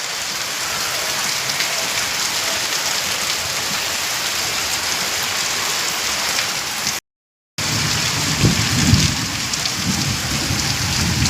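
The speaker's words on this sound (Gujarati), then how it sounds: "તો ગઈ વરસાદ તો વધ્યો પાછો" Heavy rain pours steadily in a loud, constant hiss, with a brief dropout and then a low rumble of thunder rolling under the downpour.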